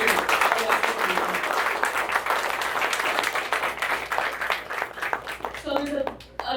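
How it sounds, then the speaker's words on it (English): Crowd applause for hospital staff and leadership at a rehabilitation hospital's ribbon-cutting anniversary event: sustained, full clapping from many people that thins and softens near the end, with faint voices emerging underneath as it fades. "let's give a round of applause to all of the amazing staff and leadership here"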